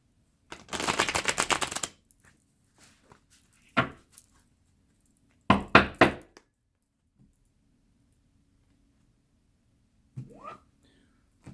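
Tarot cards riffle-shuffled close by in a burst of rapid fluttering, followed by a couple of shorter shuffles and soft handling sounds amid quiet pauses.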